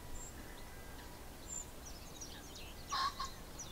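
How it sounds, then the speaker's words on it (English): A pheasant gives a brief, fairly distant call near the end, over quiet open countryside along the Thames, with faint background bird sounds. "There's a pheasant."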